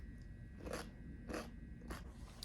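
Someone bites and chews fermented cucumber kimchi, three soft crunches spaced evenly over a low, steady background hum, close and fairly quiet.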